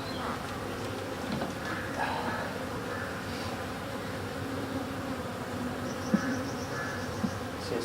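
Steady, dense buzzing of many honey bees close by during a hive inspection, a continuous drone with a few brief knocks near the end.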